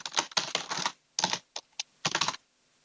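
Keys on a computer keyboard are tapped in quick close-up bursts, a rapid run of clicks followed by a few isolated presses and another short flurry, crisp and alone.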